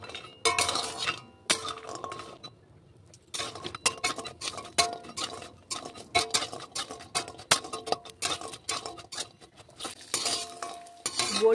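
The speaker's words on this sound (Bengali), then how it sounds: "বড়িগুলো একসাথেই ভেজে নিতে হবে।" Lentil dumplings (bori) frying together in oil in a wok, with repeated clinks and scrapes of a spatula against the metal and a steady sizzle underneath, close and fairly loud, with brief pauses.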